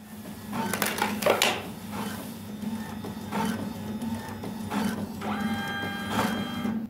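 A printer running on backup power from a capacitor-based UPS whirs and clatters nearby, with mechanical clunks, feed rattles and a steady motor hum over several seconds.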